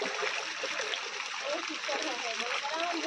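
Water overflowing from a borewell pipe on a farm makes a continuous soft splashing, gurgling stream, moderately near and steady, with faint voices in the background.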